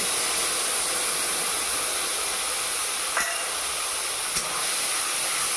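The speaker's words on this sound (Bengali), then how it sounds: "সব কিছু মশলা দিয়ে একটা পেস্ট বানিয়ে নিয়েছি এবারে কড়াইয়ে দিয়ে দেব" Spice paste for a vegetarian pea ghugni sizzles in a hot kadai, a loud, steady, close hiss that runs unbroken throughout, with only a couple of faint ticks.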